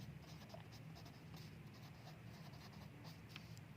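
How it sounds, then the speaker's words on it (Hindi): A pen scratches across paper or a board in quick, faint strokes, handwriting steadily for a few seconds during a lesson, with no speech over it. "इसको मैं लिख लेता हूँ यहाँ पे"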